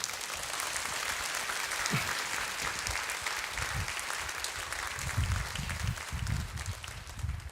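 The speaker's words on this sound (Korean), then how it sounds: "여러분 나오실 때 뜨거운 박수로 맞아주시기 바랍니다" A church congregation greets a missionary to Africa with warm applause, a steady, dense roar of many hands clapping throughout, with a few low thumps mixed in.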